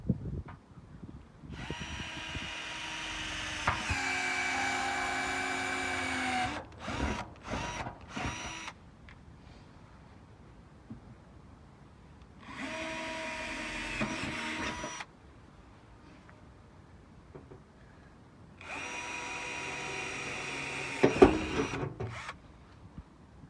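A drill bores holes through the body of a Nissan truck for a snorkel kit, heard as three separate bursts of steady whirring with pauses and clunks in between, moderately near, no speech.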